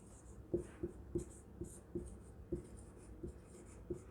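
Handwriting on a board or paper during a Hindi grammar lesson: a quiet series of regular tapping strokes and scratches, roughly two per second, with faint high squeaks above.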